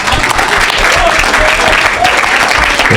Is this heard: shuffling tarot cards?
no